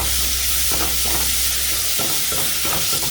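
Onions and tomatoes stirred and frying in oil in a pan, a steady loud sizzle throughout with soft scraping stir strokes repeating near the end.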